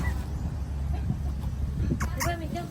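Chickens cluck in short scattered bursts close by at a farmyard feeding, mixed with soft background chatter and a few higher bird calls toward the end.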